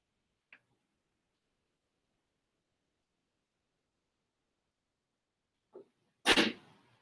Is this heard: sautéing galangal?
no